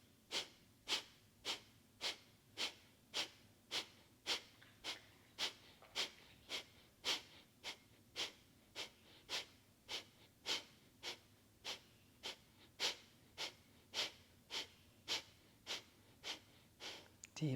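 Breath of fire yoga breathing during a morning session: forceful, rhythmic nasal exhales pumped out about once every two-thirds of a second, steady and unbroken, fairly faint and with no talking.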